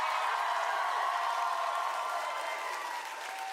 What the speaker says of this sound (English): let's give a round of applause to them for us